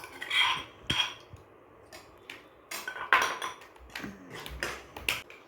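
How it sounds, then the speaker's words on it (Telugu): A spoon scrapes and clinks against a pan while garlic paste is mixed into cooled oil, giving intermittent close metallic taps and scrapes with quiet pauses between strokes. "ఆయిల్ చల్లారిన తర్వాత ఇందులో అయితే వెల్లుల్లి పేస్ట్ వేసుకొని కలుపుకోవాలి."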